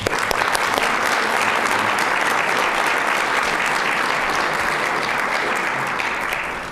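Audience applause at a Messiah Lifeways press conference welcoming Secretary Duke, a steady, full round of clapping from a sizeable crowd indoors, holding evenly before tapering at the end.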